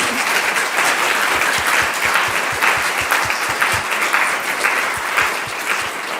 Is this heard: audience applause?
yes